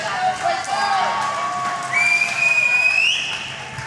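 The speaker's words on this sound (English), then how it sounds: "We got some whistlers here in the crowd for her." Crowd at a USA Powerlifting summer meet cheering and whistling for a lifter's 125-kilo third squat attempt, sharp rising whistles over a steady wash of applause and shouting voices.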